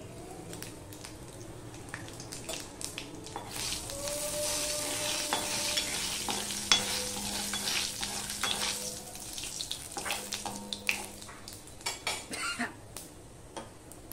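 Panch phoron whole spices hit hot oil, already sizzling with dried red chilli, for a urad dal: a steady close crackle and hiss with occasional clinks of a spoon stirring in the pan.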